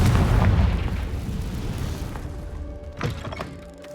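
Fiery Confringo spell explosion from the Hogwarts Legacy video game, a booming blast rumbling low at the start, then a sharper burst near the three-second mark fading out.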